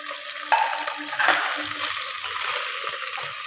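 Chopped carrots, potatoes and beans sizzle steadily in a pan for a vegetable biryani, with a few soft scraping stirs and light clinks over the continuous frying hiss.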